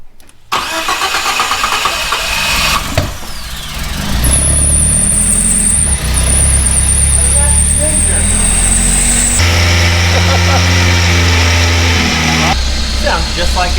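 A long-abandoned old car, stuck in a forest for 40 years, cranks and catches, then its engine runs loud and rough up close, with a high whine over it and people talking nearby.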